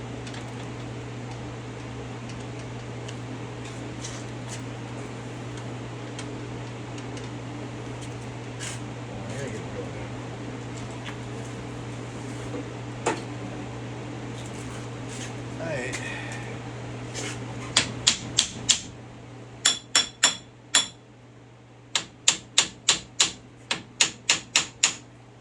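A socket wrench tightens the bolts on a Jeep Wrangler TJ driveshaft, first soft clicks over a steady background hum, then a quick run of sharp, loud ratcheting clicks near the end.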